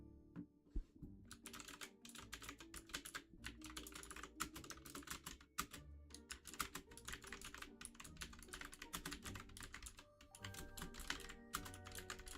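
Rapid, continuous typing on a loud, clacky computer keyboard, keys struck close by in dense irregular bursts with brief pauses, no talking.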